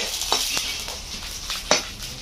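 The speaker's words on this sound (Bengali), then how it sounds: "কেরাহির মাজত পিয়াজ ভাজি আছে এটা জিরা দিয়া হল" Onions frying with cumin seeds in a wok, a soft steady sizzle with a few sharp scrapes and clinks of a stirring utensil against the pan.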